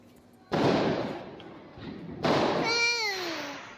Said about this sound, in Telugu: బాగా క్రాకర్స్ కూడా కాలుస్తున్నారు